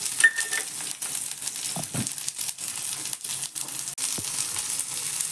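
Chopped onion frying in a hot pan while cooking aloo ka jhol for bedmi puri, a continuous close sizzle with crinkly crackles and a few soft stirring knocks, no voices.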